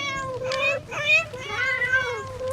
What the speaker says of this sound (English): right now it's burning cats